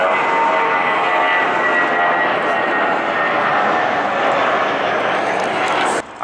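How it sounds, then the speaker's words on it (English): Steady, loud roar of an Airbus A320 airliner's engines at an airport, a broad continuous rumble and whine holding throughout, ending with a brief thump near the end. "I believe it's an A320, guys. Oh, they can't hear me. There's an engine noise for you, though."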